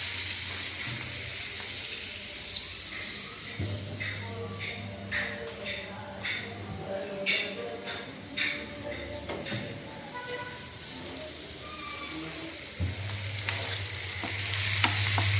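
Onions and salt sauté in hot oil for a Chettinad prawn gravy masala, a steady close sizzle broken by repeated scraping stir strokes of a spoon in the pan, while someone talks over it.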